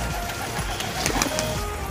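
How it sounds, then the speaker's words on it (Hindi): A pet pigeon at a home coop gives low, throaty coos close by, with faint background hiss and a distant chirp. "दोस्तों कबूतर आया है, ये देखिए"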